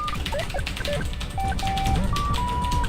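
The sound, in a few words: typing sounds in Mario Teaches Typing video game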